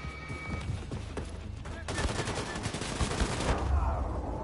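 Sustained bursts of assault rifle fire in the Wolfenstein II shooter, loud dense rapid volleys continuing throughout with game effects layered underneath.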